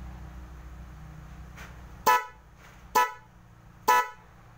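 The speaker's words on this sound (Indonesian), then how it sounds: "Nah, dan kita pencet untuk klaksonnya" Car horn fitted with a newly installed horn relay honks three times in short, loud, evenly spaced blasts about a second apart, close by, after a low idle hum.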